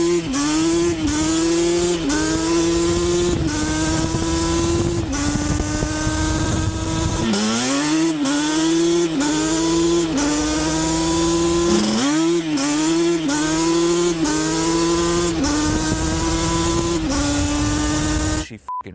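Yamaha Banshee two-stroke quad engine revving loudly through repeated rising throttle pulls and gear changes as it rides off, close and continuous until a sudden cutoff at the end.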